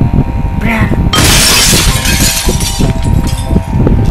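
Glass shatters loudly in the Happy Wheels video game, a sudden bright burst that crackles and settles over about a second, surrounded by game noise and a voice talking.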